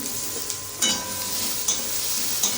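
Onions, tomato and green chilies frying in a pan, a steady sizzling hiss with a few stirring scrapes and light utensil taps against the pan at intervals, no talk.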